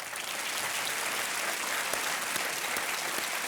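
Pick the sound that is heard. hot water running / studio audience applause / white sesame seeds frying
studio audience applause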